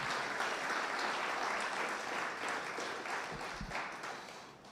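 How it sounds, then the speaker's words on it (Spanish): Church congregation applauding together during a sermon, a dense steady wash of clapping that fills the space evenly and tapers slightly near the end, with no talking over it. "Mujeres, denle un aplauso al Señor."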